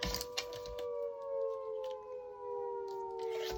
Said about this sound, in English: It's the local volunteer fire brigade siren going off now.